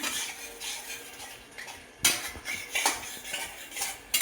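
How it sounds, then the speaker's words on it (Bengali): Chicken leg roast spices stir-fried over medium heat, a spatula clinking and scraping against the pan in irregular bursts, louder knocks toward the end, close up with no talking. "এবার একটু কষানো হবে মিডিয়াম আঁচে কষানো হবে"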